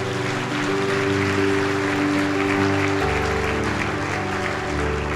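A church congregation claps together at a Sunday service, a full, continuous wash of applause with a sustained keyboard chord ringing beneath it.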